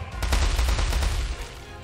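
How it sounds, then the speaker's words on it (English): Tank and light cannon firing in a war video game, a rapid burst of booming, cracking shots with heavy low rumble, loud and close. "it's a standoff between a tank and a light cannon"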